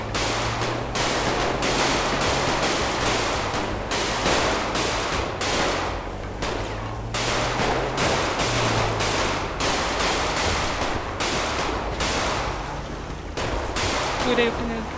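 Rapid bursts of gunfire crackle almost continuously during a shootout in GTA 5 roleplay, dense overlapping shots from several weapons with short gaps, loud and busy throughout, with faint voices underneath.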